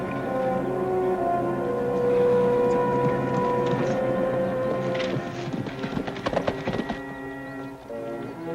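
Horses' hooves clip-clop in an old western TV episode, irregular hoof knocks that grow busier toward the end, heard under sustained tonal music.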